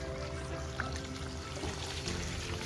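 Water pouring steadily while a garden is watered, a continuous soft splashing wash at low level with no breaks, heard alone without talk.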